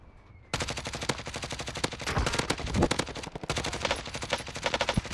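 Rapid automatic gunfire from the Warzone battle royale video game, close and loud, with dense bursts and sharp individual shots running almost continuously after a brief quiet start.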